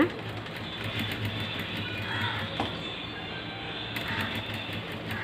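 A sewing machine runs steadily up close, stitching a churidar along an embroidered design with an even mechanical whir that pauses briefly partway through.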